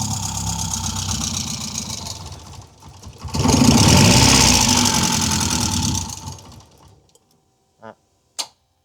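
An old car engine turns over and idles after fifteen years without running, a close, rattling, uneven chug that swells louder midway and then fades out, leaving a couple of brief knocks.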